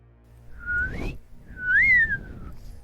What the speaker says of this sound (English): You blow the slide whistle, you hear a click.